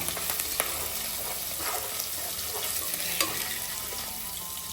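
Ginger garlic paste fries in a pan for Hyderabadi egg dum biryani, giving a steady close sizzle with faint intermittent stirring scrapes and no voices.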